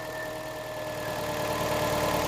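A 2012 Hyundai i30 engine idles after an engine swap, a steady close mid-pitched drone with slight rough vibration and a faint tonal whine, continuous and without talk.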